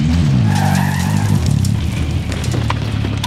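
Car in Call of Duty Warzone driving hard with a loud, steady engine drone and tyres skidding and squealing across the surface, close and continuous throughout.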